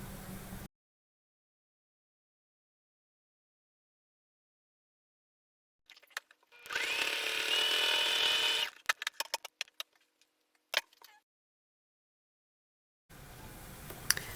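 A sewing machine runs a top stitch along the folded edge of a fabric face mask. It makes a steady whirring burst of about two seconds, then short stop-start stitching bursts, with silence before and after.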